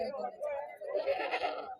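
Black billy goats at a weekly Saturday livestock market in Dubbaka give a short, nasal bleat close by, wavering over about two seconds with little else around it.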